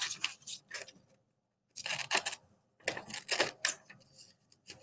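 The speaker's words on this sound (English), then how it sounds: "I'm just going to cut out my parallelogram." Scissors snip through paper to cut out a parallelogram shape, in three bursts of quick crisp snips separated by short pauses, close and quiet with no talk.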